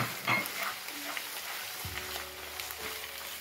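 Fried paneer cubes being stirred into cooked spinach in a pan, giving a steady close sizzle with scraping and stirring clatter, a low thump near the middle.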